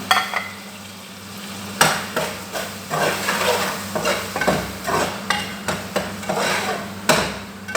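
Spices with turmeric and salt frying in a pan for a dried fish curry, stirred with repeated scraping, clattering strokes of a utensil against the pan over a soft sizzle, close and rhythmic with no talking.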